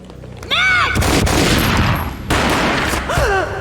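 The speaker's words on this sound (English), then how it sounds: "A gunshot boomed and she fell down in slow motion." Gunfire in the Max Payne video game: loud booming gunshots in a dense, sustained burst, with a second blast partway through, between brief pitched tonal cues at the start and end.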